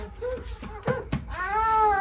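A cat meows a couple of times nearby, short cries followed by a longer, rising drawn-out meow at the end, with faint background noise.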